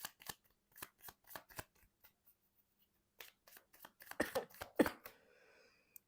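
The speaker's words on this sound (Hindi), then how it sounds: "लास्ट शफल, फ्यूचर के लिए कार्ड देखते हैं," Tarot cards are shuffled by hand in quick, crisp riffling bursts. A pause follows, then louder brushing and snapping of the cards close to the mic.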